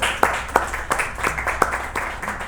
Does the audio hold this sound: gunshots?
no